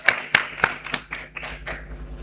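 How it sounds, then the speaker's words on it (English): Scattered applause at an education symposium honoring a coordinating group: a handful of sharp, distinct claps in an uneven rhythm, clear and close, thinning into softer clapping before fading out. "I want to ask actually for another applause of recognition to that coordinating group."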